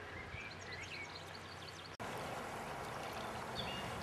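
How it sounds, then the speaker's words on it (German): A river flowing at the deep outer bend of its course, with willow branches trailing into the water: a quiet, steady rush of moving water with faint birdsong above and a brief dropout midway. "Ich bin jetzt hier an einer Außenkurve vom Fluss."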